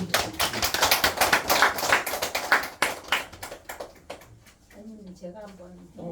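Clapping from a small group in a Korean study session, a dense burst of hand claps for about four seconds that thins out as a voice begins talking.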